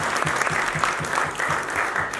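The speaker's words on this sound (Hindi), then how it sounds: "इनके लिए भी एक दफ़ा भरपूर तालियां बजाएं" An audience at an Urdu poetry gathering breaks into steady, dense applause, sustained and close, with rhythmic clapping filling the room throughout.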